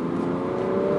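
A BMW 435d M Sport diesel pulls away under hard acceleration, its engine giving a loud, steady, close drone with a firm low hum and no voices over the brief burst.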